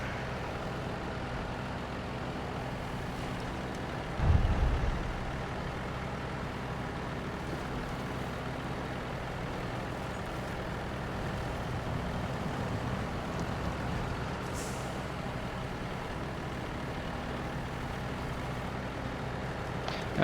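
A heavy truck engine drives in the SnowRunner video game, a steady low droning rumble that holds for the whole stretch with a brief deeper thump early on and no talking.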